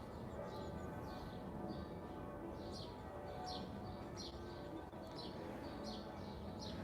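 Church bells chime repeatedly in a steady rhythm at a distance in the Épinettes area of Paris, with birds chirping and a constant low background rumble throughout.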